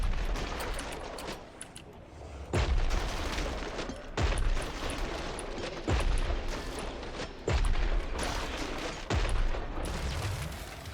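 Shotgun blasts in the video game Killing Floor 3, heavy booming shots fired every second or two with clattering mechanical reload sounds and game noise between them.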